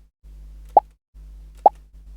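Two short, clean pop effects from a Scratch coding game, spaced nearly a second apart, each a sharp bright plop over a low steady hum.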